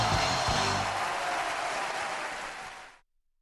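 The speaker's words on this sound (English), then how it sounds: "round of applause to them" Applause after a discussion of the Dragon Ball Super: Broly movie: a dense, loud burst of clapping with a few low thumps near the start, holding steady before cutting off at about three seconds.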